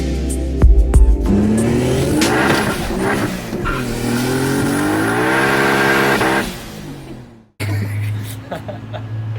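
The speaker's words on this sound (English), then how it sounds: "a HELLCAT engine that this man put in the car" A Hellcat engine swapped into a Mazda Miata revs hard on a dyno, its loud, rising roar sweeping upward and holding before cutting off abruptly, then settling into a lower, rougher run.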